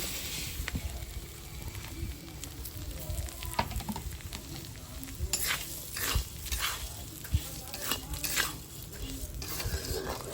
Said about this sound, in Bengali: এবার এই চালটা আমি দিয়ে দিচ্ছি